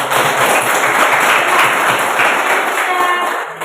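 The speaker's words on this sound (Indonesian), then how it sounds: "Tepuk tangan dulu" Applause at a teacher-training programme event, a dense burst of many hands clapping loudly and continuously, tapering off slightly at the end.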